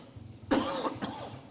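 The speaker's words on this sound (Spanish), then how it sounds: "Yo tengo aquí un poquito de tos." A single short cough sounds close by, followed by a second smaller cough against a quiet room.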